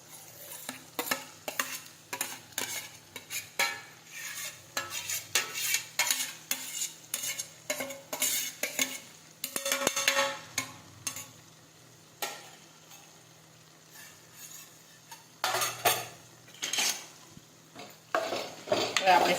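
Mashed roasted eggplant bharta is stirred and turned in a pan, a repeated scraping of a spoon against metal in uneven strokes over a soft, continuous sizzle, fairly close.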